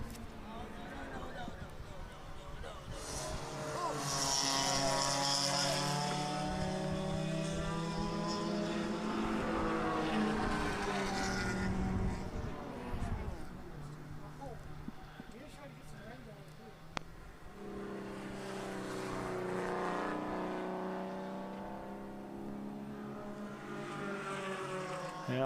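Race cars roar past on the track during the 2014 O'Reilly Auto Parts Grand Prix, sustained engine drone rising and falling as cars pass, loud and continuous under ongoing commentary voices.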